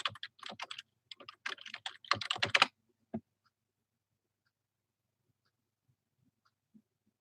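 Fast typing on a computer keyboard comes as a close flurry of clicks for about three seconds, then stops, followed by near silence with a few faint ticks.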